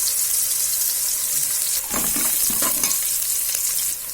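Curry leaves and green chillies spit and sizzle in hot oil for mango rice, with a steady bright hiss and a sharper burst of crackling midway when they hit the pan.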